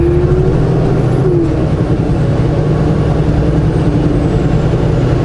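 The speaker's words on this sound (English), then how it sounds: "Big old traffic jam right here." Road traffic idles and creeps in an afternoon traffic jam, a steady close rumble of car and truck engines with a constant low drone and no clear pauses.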